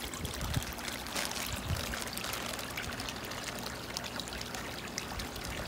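Water poured from a small measuring cup into a koi tank, a steady close splashing trickle running for several seconds with no voices.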